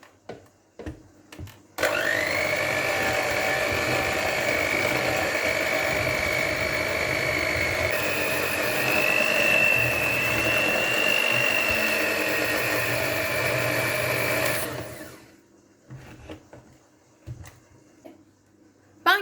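An electric mixer beats cocoa and water into half of a soda mosaic cake batter, with a steady, loud motor whir and a whine that shifts pitch partway through. It runs for about thirteen seconds, then stops, leaving faint clatter.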